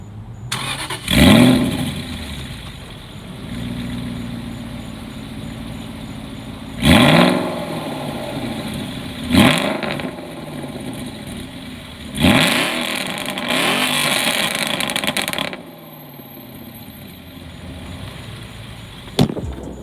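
A decatted Aston Martin V8 Vantage engine is revved repeatedly from idle, giving five loud, sharp blips with a longer sustained roar near the end, each falling back to a low, burbling idle.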